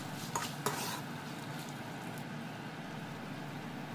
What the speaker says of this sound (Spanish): Lo vamos a remover esto unos 5 minutos